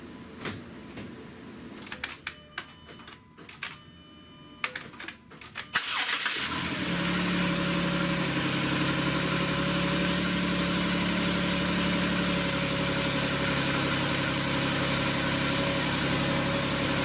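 A swapped engine in a 2010 Dodge Grand Caravan cranks and catches around the six-second mark after some quiet clicking, then settles into a steady, close idle that holds to the end.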